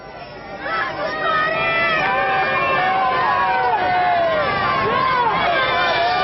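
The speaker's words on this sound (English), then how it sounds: "So listen to this crowd." At a 1984 Palermo polo semifinal between La Espadaña and Coronel Suarez, a large stadium crowd roars and cheers steadily, a dense wash of voices swelling and holding loud throughout.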